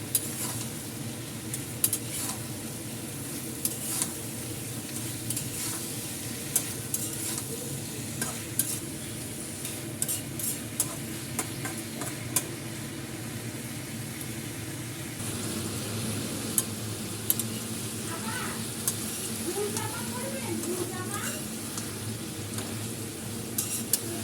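Bitter gourd sizzling steadily in a pan, broken by repeated spatula scrapes and clinks against the metal at irregular intervals; nearby, no speech.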